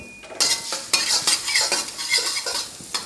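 Finely chopped garlic hitting hot oil in a pan during a stir-fry, sizzling loudly as a spatula scrapes and stirs it in repeated quick strokes, with no voices.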